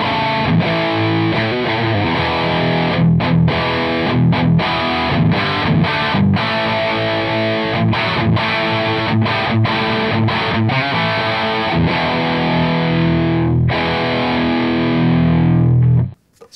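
Heavily distorted electric guitar through a closed-back cabinet with a Celestion Redback speaker plays chugging riffs with chords and short breaks, a loud, tight, full tone that rings out at the end.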